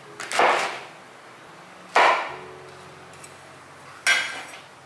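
A kitchen knife dices red shimeji mushrooms on a cutting board in three separate crisp chopping bursts, each sharp and close, about two seconds apart, with quiet pauses between.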